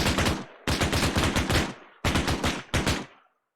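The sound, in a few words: 50 cal machine gun firing in video game Arma 3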